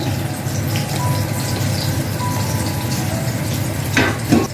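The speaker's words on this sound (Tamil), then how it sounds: "இப்போ பார்த்திங்கன்னா நல்லா கொதிக்குது" Chicken biryani liquid boils in a pot with a steady, close bubbling rush that swells slightly near the end.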